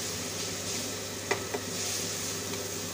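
Finely chopped tomatoes hit sizzling onion masala in a pan for aloo gravy, giving a steady close sizzle with a couple of brief clinks from stirring, and no voices.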